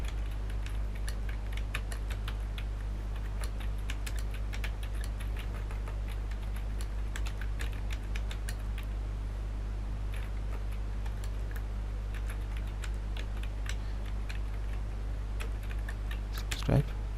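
Computer keyboard typing an HTML marquee tag, a steady run of light, quick key clicks sitting faintly over a constant low hum, with no clear voice.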